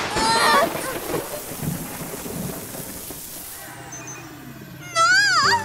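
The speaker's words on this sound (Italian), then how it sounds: "piove a dirotto!" Heavy rain pours down in a constant hiss, with brief voices and a rumble near the start and a short high sound at the end.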